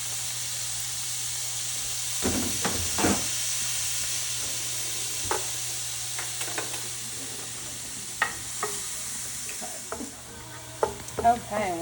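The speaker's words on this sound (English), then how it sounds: "you're gonna take your onion and you're gonna saute it" Onion sautéing in a pan for chicken enchiladas, a steady soft sizzle with occasional stirring scrapes and clicks, close by and without talk.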